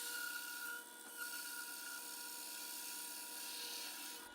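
A 1-1/8 inch hole saw cuts through scrap plywood in a workshop, giving a steady high-pitched whine and grind that runs close and loud for about four seconds before stopping abruptly.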